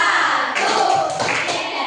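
A school class claps together in a loud, dense burst during a classroom ice-breaker clapping routine, the hits blurring into a thick wash with no clear individual beats and no talking.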